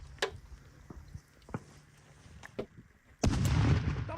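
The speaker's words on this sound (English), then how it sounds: "The newly arrived Ukrainian soldiers are working out their skills in shooting from assault rifles and are also throwing F1 grenades." An F1 hand grenade detonates during military training, a sudden loud broadband blast that follows a few sharp, distant shots and keeps rumbling to the end.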